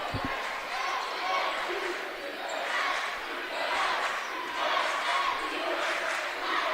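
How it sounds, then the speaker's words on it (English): Crowd cheering at a women's college basketball tournament game between the MNU Pioneers and Benedictine Ravens, a steady roar of spectator voices in a gym, with an announcer talking over it. "An electric crowd by both sides."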